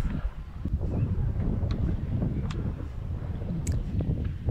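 Wind gusts at an outdoor Spartan Beast obstacle race in the UK, near the balance beam, as a steady low rumbling buffet against the microphone with faint rustles, no talking.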